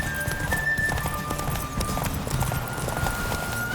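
Roach the horse gallops in The Witcher 3, hooves clip-clopping in a steady quick rhythm up close, layered over game ambience and a faint sustained tone.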